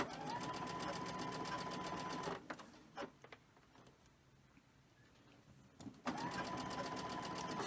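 A sewing machine stitches quilt pieces in steady fast runs, humming and clattering close by, stopping for a few seconds of light handling noises before starting up again.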